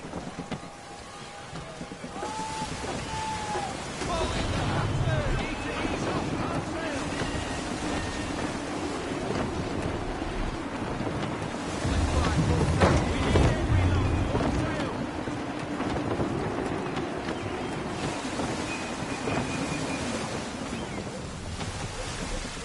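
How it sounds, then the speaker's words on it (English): Gusty wind and rushing sea while sailing a ship in Assassin's Creed III, a continuous roar of wind and waves against the hull, with voices talking over it. "Gusty winds can be difficult to manage."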